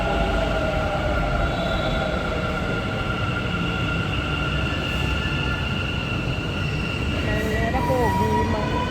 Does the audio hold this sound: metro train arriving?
yes